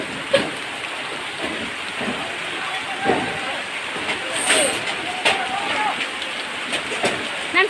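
Heavy rain pours steadily onto surfaces while strong wind gusts around a village house, loud and close, with scattered thuds and rattles and voices talking under the downpour.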